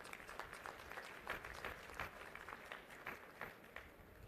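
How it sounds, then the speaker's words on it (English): A crowd claps throughout a university convocation ceremony, a dense, steady patter of applause that sounds somewhat distant and subdued. "So a big round of applause to all of you."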